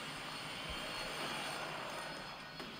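Airplane flying in the LEGO Ninjago Shadow of Ronin video game: a steady, faint broadband engine roar and whoosh that holds evenly throughout, with no talking.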